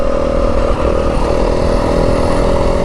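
A 2025 Yamaha WR250F dirt bike runs steadily through Arizona desert terrain, a loud, close, buzzing engine drone holding a constant pitch with some clatter, and no talk.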